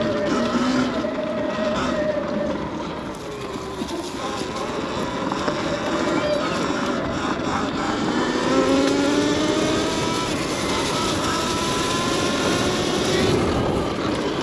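2022 Sur-Ron XX electric dirt bike ridden outdoors, a rising and falling electric motor whine over rushing wind and gravelly tire noise, steady and close throughout.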